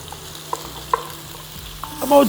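Black pepper and cumin seeds hit hot oil for a Kolkata chicken biryani, giving a close, steady frying sizzle with a few light stirring clicks and a brighter burst of crackle near the end.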